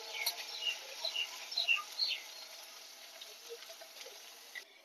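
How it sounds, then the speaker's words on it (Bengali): Shrimp coated in salt and turmeric fry in oil over medium heat, giving a faint, close crackle of small pops and spits that is busier at first and thins out. "এবার চিংড়ি মাছটাকে মিডিয়াম আঁচে একটু লাল করে ভেজে নেব।"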